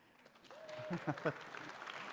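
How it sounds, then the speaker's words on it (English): A synagogue congregation at a Friday evening Shabbat service claps in a soft, brief patter, with voices rising over it and then fading. "Now you can clap."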